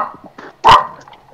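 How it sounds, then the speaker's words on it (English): A pet dog barks once, loud and close, after a few softer growly yips, with no speech in the short stretch. "my dog came in barking"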